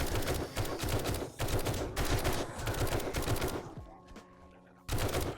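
Rapid automatic gunfire in the zombie survival game 7 Days to Die, sustained bursts of loud shots filling most of the stretch, broken by a short quieter pause before shooting resumes.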